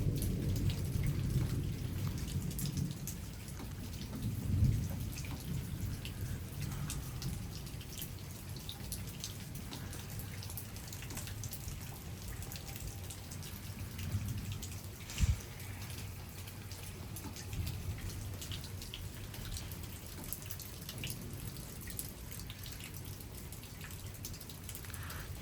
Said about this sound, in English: Okay, the rain's almost stopped.